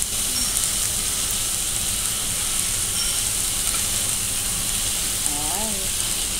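Beef sizzling in spattering oil on a Pepper Lunch hot plate, a constant loud crackling fry with faint background chatter and clinks.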